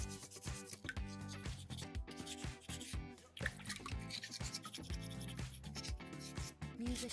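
Sandpaper rasps in short repeated rubbing strokes over a soapstone skull carving, quiet and close, with music playing over it.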